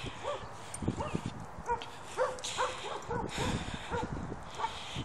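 An unhappy dog barks and whimpers at a Siberian husky hybrid, giving a series of short yips and whines over several seconds, with a person talking nearby and faint footsteps.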